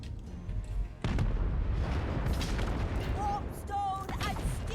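Missile and gunfire in Total War: Warhammer III, a dense roar of booming impacts and shots rumbling continuously throughout, with a few whistling tones cutting through near the end.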